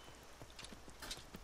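Horse hooves clip-clopping in the video game Skyrim, a faint, steady run of light hoof strikes in a brisk rhythm, heard alone.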